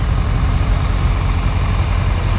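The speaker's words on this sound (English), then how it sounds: "There comes the 3020 diesel power shift. 1972 edition from Burlington Junction, Missouri." A 1972 John Deere 3020 diesel Power Shift tractor rolls by in an Iowa threshermen's show parade, its engine a loud, steady low rumble with a throbbing idle-like pulse and no talk.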